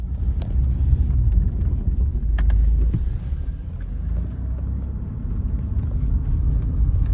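Mercedes 300D W124 diesel car on the road, a steady low engine and road rumble heard from inside the cabin, loud and continuous with slight swells, no talking.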